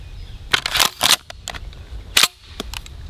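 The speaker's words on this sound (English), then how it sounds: "Rotating bolt on this, so you can really fling those shells out of there." A Benelli SuperNova tactical pump shotgun with a rotating bolt being racked, several sharp metallic clacks and slides in quick irregular succession as shells are flung out, close and loud.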